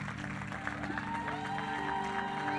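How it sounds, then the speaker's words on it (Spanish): A church audience at a Spanish-language service applauds. The clapping is a brisk, fairly close patter layered over sustained musical tones that keep sounding throughout. "damos un aplauso a los organizadores por la fe en acción"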